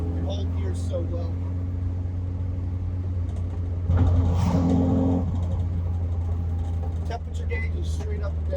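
A Saab Sonett with what seems a fresh clutch drives along, its engine a steady low drone with a brief swell of revs midway, plus faint rattles and road noise throughout.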